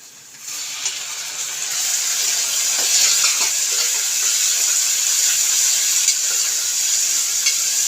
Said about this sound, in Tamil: தக்காளி வதங்கிறது